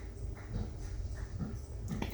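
Soft puppy whimpers and small whines from a playful young dog, close and fairly quiet, with a brief louder yip near the end over low background rumble.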